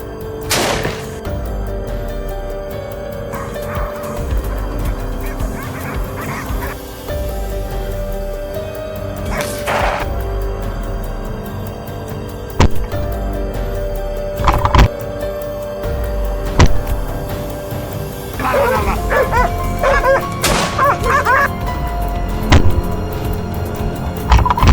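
Hunting dogs bark in scattered bursts during a wild boar hunt outdoors, over a steady low rumble, with no speech.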